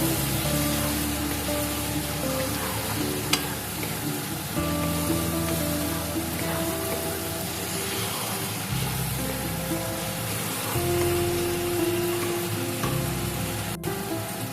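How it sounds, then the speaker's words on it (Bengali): Spice masala for Bengali vegetarian dhoka dalna sizzles steadily in a pan after sour yogurt is added, a close, continuous frying hiss with faint stirring scrapes throughout, no talking. "টক দইটা লাস্টের থেকে দিয়েছি, এটা দিয়ে আরেকটু আমি কষিয়ে নেব"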